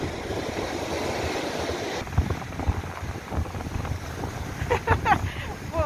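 Strong wind buffets the microphone over big waves on Lake Baikal, a steady roaring rush with bursts of surf and gusts, while voices call out faintly beneath.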